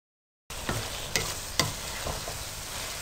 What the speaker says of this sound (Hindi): मैंने 1 मिनट के लिए कौरमा मसाला डालकर इसको भून लिया